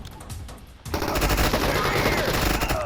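Sustained rapid gunfire in the tactical game Door Kickers 2, starting with a quieter moment and then breaking into dense, continuous automatic bursts, loud and close, with some voice under the shooting.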